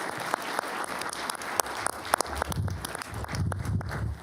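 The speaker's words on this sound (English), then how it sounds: "Give them applause" Applause at a county commissioners' board meeting for award recipients, a mix of scattered sharp claps and broader clapping, with shuffling footsteps and movement as people come forward.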